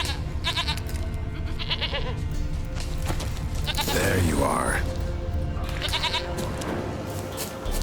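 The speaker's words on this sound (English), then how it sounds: "Here, goat." A goat in The Witcher 3 bleats several times in short wavering calls over steady game ambience and music, partly under a voice speaking nearby.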